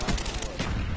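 A Galil rifle fires fully automatic in Call of Duty Black Ops, a dense, loud, continuous stream of shots packed tightly together.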